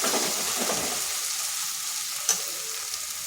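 Ground spices (cumin, coriander and Kashmiri chilli powder) fry in a pan while being stirred, a close hiss with scraping strokes that fades to a softer sizzle, broken by one sharp clink.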